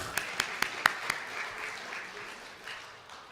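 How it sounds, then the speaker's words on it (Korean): Brief applause from a church congregation at an afternoon worship service, starting with several sharp separate claps and then thinning into a soft scattered patter that fades. "박수 한번 하겠습니다."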